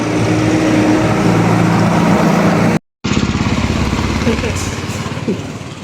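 A scooter engine hums and buzzes steadily while riding, with wind rush; the sound briefly drops out mid-way, then resumes and gradually fades.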